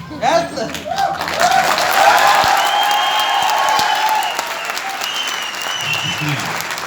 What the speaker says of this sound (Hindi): जब गुरु का नाम आए ना जुबान पे तो ताली ऐसी बजनी चाहिए कि आसपास में जो बैठे ना उनको करंट आ जाना चाहिए।